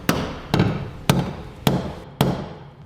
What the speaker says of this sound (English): use our center punch to mark the bed and put a little indentation